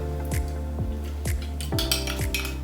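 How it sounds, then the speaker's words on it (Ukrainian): A spoon stirs sweet-and-sour salad sauce in a bowl, clinking against the side in about six regular strokes, close and clear with no talking. "Тепер це все гарно перемішуємо."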